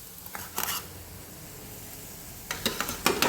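Potatoes tipped into boiling potato gravy in a pot for rasa batata bhaji, a couple of short clustered splashes and clatters against a soft bubbling simmer, close and with no talk.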